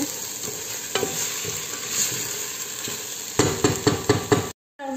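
Lentils being stirred in a pot on the stove, a soft scraping and sloshing with a light sizzle underneath, growing busier with quick rhythmic strokes near the end before a brief cut to silence.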